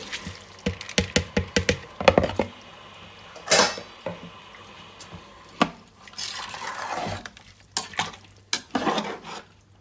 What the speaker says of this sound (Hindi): अब इसके अंदर ये मैंने चावल किए हैं ड्रेन और ये मैं इनको डाल दूंगी